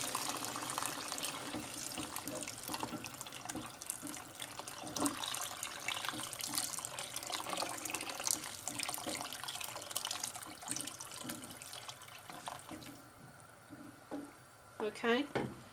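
Water streams steadily into a pot of dried beans and meat for a Turkish-style stew, a continuous splashing pour with a person talking over it.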